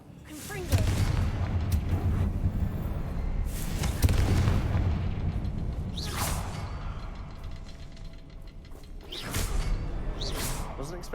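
Confringo blasting spells detonate in a Harry Potter video game, with heavy booming bursts and whooshes near 1, 4, 6 and 9.5 seconds over a dense, rumbling battle din.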